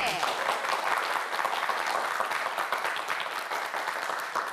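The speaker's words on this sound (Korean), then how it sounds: "파이팅 외치면 큰 박수 보내주세요" A studio audience at a televised quiz show breaks into loud, sustained applause, a dense even wash of clapping that fills the whole stretch.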